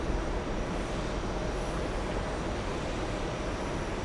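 Steady, distant rumble of a Boeing 777 airliner passing at an airport, a smooth broadband engine roar holding level for the whole stretch with no talk.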